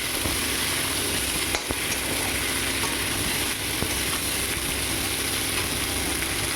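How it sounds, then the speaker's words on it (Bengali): Raw plantain and prawns cooking in a hot pan, giving a steady, loud sizzle with occasional faint scrapes from stirring and no talk. "কলাটা দিয়ে আমি একটু নাড়াচাড়া করে নেব। কলাটা কিন্তু ভাজবো না"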